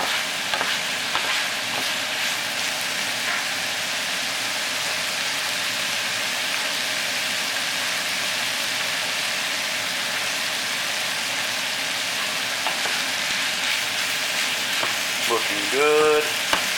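Sausage sizzles steadily in a hot pan as it is fried and stirred, a dense crackling hiss running the whole time with occasional scraping stirs and a brief clatter near the end.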